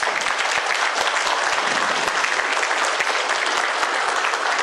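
A crowd at a West Covina city council meeting claps steadily in sustained, dense applause, loud and even from start to finish with no voices standing out.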